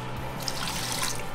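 Water is poured steadily into a cooking pot for a Chinese oxtail stew. The pour makes a continuous splashing rush with no talk over it.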